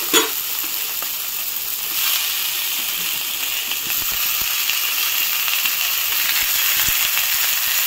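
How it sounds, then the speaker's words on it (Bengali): Sweet pumpkin, sweet potato and tomato pieces frying in very little oil for a Bengali fish sour dish, a steady close sizzle with faint taps of stirring throughout, no voices. "মিষ্টি কুমড়া আর মিষ্টি আলুটা ভাজা ভাজা হয়ে গেছে। এখন কেটে রাখা টমেটোর টুকরোগুলো দিয়ে দেবো।"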